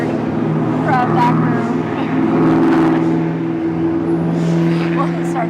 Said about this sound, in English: Loud race cars.